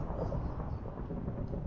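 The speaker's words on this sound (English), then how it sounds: "striking chickens with lightning is so easy with this mode" Lightning strike from a lightning mode in modded Minecraft, a deep rumbling thunder roll, loud and continuous for under two seconds, with no speech over it.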